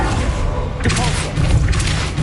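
A Depulso spell cast in the video game Hogwarts Legacy gives a short, dull magical thump and boom amid continuous game ambience, with a brief burst near the middle and another swell toward the end.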